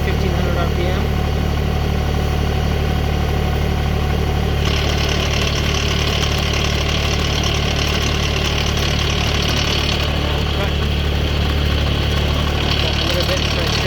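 A Mahindra eMax 20S compact tractor runs at about 1500 RPM, a loud, close, steady mid-pitched engine drone with knocking undertones and a continuous rumble throughout.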